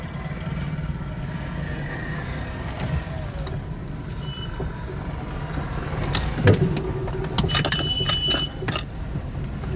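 A car's engine hums steadily as it creeps forward in first gear through a traffic jam, swelling a little louder as light throttle is applied. There is no talk.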